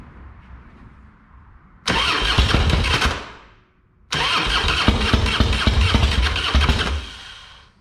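A Harley-Davidson Fatboy motorcycle engine cranks and fires loudly twice, each start catching into a strong rumbling run before cutting off, with a brief quiet gap between the two attempts.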